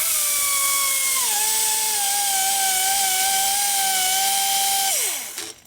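A rotary grinder smoothing sharp edges on a 2000 or 2004 Harley-Davidson Sportster 1200 cylinder head gives a steady, loud high-pitched whine that sags slightly under load, then winds down at the end.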